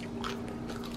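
Crisp crunching bites into a garden-grown cucumber, a few sharp crunches close to the mic over a faint steady hum.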